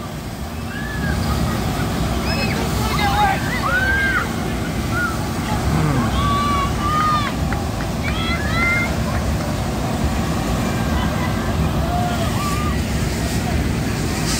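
Fire hoses from three lines spray water over a new rescue truck at a fire company celebration, a continuous hissing wash of water with birds chirping and faint voices in the background.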